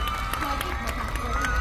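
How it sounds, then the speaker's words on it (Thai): Fans at a L'Oréal Paris brand event in Thailand clapping and cheering, a steady crowd wash of applause with scattered shouts, loud and continuous throughout. "ปรบมือกับพี่ด้วย"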